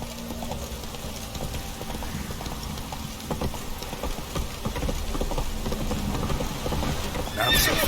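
Horse in The Witcher 3 video game whinnying with steady clip-clop hoofbeats at a gallop, constant and fairly loud, with game ambience beneath and a brighter burst near the end.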